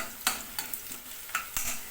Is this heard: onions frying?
yes